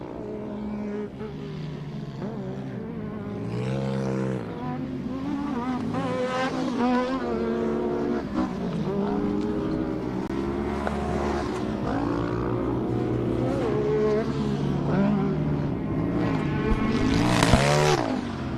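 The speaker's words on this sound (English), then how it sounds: "So Hodgson goes by one more time, followed by Gamma Benitez" Off-road short course race trucks roar past at a track during a main race, engines rising and falling in pitch as several vehicles pass in succession, loud and continuous with faint commentary underneath.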